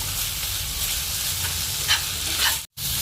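Eggplant with chili powder being stirred in a hot pan for begun bharta, a steady oily sizzle with scraping spoon strokes, close and loud, briefly cut by a gap near the end.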